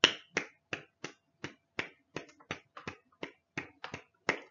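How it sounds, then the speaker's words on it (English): Finger snaps or claps keep a steady, evenly spaced beat of about a dozen crisp, close hits, heard alone with no voices. "It's more just like somebody clapping."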